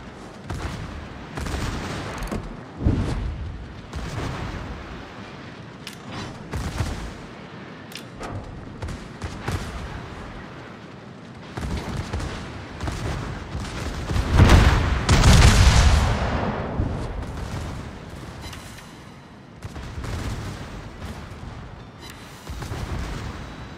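Main guns of the battleship Tirpitz fire in a naval video game, a run of heavy booming salvos over about twenty-four seconds, with the loudest, longest blast rumbling near the middle.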